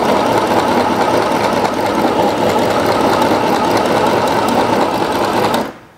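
A mini portable sewing machine, model 505, stitching in a fast, even, loud mechanical whir that runs steadily close by and then stops abruptly at the end.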